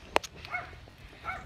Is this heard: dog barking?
yes